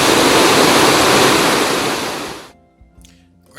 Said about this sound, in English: Another hike we did, though not necessarily in this sequence, was to a waterfall called Poco Azul.